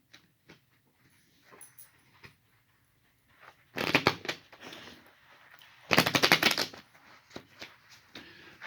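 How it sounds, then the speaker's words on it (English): Rocky the dog moves and scuffles nearby, with light scratches and taps giving way to two loud bursts of rustling and shaking, then quieter shuffling. "That would be Rocky the dog."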